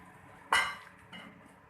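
Dishes and a utensil clink while chana dal is served into a dish, with one bright metallic clink followed by a softer second knock, close and otherwise quiet.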